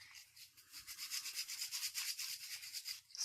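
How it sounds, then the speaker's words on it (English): Sandpaper rubs by hand across a wooden hat hanger in quick regular back-and-forth strokes, a close, soft, rhythmic scratching with no talk. "So you always want to sand it until it feels really good"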